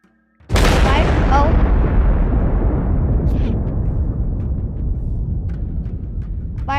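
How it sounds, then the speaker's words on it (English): Celebration fireworks go off with one loud, close blast that rolls into a long rumbling decay, with scattered crackles and pops continuing afterward. "Couple more fireworks."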